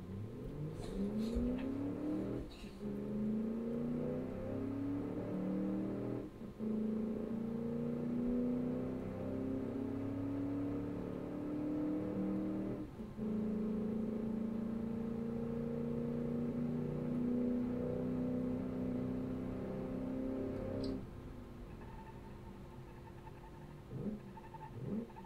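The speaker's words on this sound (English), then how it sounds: "Let's listen to the engine." V8 pickup engine in the BeamNG driving game revs and drones steadily for about twenty-five seconds, its pitch climbing through each gear with brief drops at shifts, loud and close with no talk.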